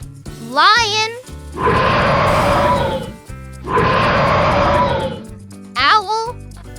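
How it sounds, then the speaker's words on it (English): Two long, rough lion roars swell loudly over a bouncy children's animal song, with short sung voices and music around them. "Lion."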